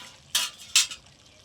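Pumpkin and sweet potato are stirred in a pan: two quick, close scrapes of a spoon over a faint background sizzle.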